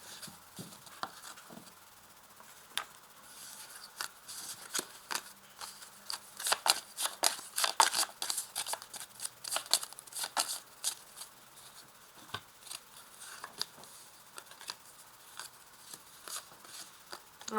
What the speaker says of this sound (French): Donc, je vais tirer ici deux autres cartes.